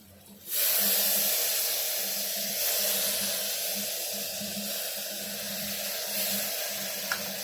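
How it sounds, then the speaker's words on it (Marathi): Water poured into a hot pan of spices such as garam masala and kasuri methi for a sprouted moth bean pulao, setting off a sudden loud hissing sizzle that settles into a steady, close steaming rush. "थोडं पाणी टाकूया"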